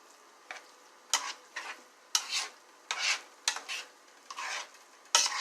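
Chopped squash sizzles in a frying pan while a utensil stirs it in repeated scraping strokes, about eight distinct passes over a steady low sizzle, close and moderately loud.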